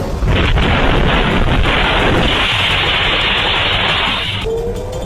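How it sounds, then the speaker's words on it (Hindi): An Iranian missile strike on Israel's defence ministry, a loud sustained roaring rumble of blast and rushing noise that fills the scene for several seconds before easing, with a thin whistling tone near the end. "आप देखिए कैसे ईरान की ये मिसाइल इजराइल के रक्षा मंत्रालय पर टूट पड़ी है"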